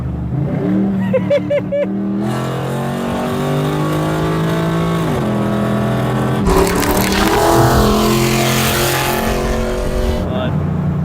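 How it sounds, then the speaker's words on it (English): A supercharged old work van engine blips and revs during a rev-matched downshift, a loud close roar that climbs and falls in pitch, with a sharp throttle flare midway and voices talking over it. "just give it a blip, and then just get right into it. There it is. a rev match."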